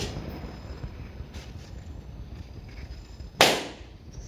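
A single sharp pop bursts out near the end, loud and close, after a stretch of low background rumble and quiet murmuring.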